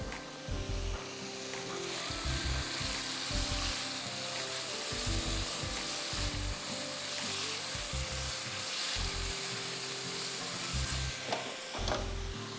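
Chicken breast frying in a pan, a steady close sizzle with repeated scraping and stirring knocks from a utensil throughout.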